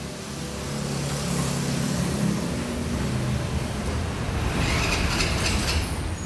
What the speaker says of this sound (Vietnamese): Còn máy thì ra, tiếng máy thì chắc nịch lắm anh ơi.